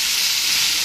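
Chopped potatoes frying in oil tempered with black cumin seeds, a loud, dense hiss of sizzling, close and unbroken for a brief moment.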